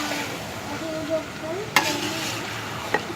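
A bread omelette sandwich flipped in a pan, a steady close sizzle running throughout with a sharp clack of the spatula midway and another light knock near the end.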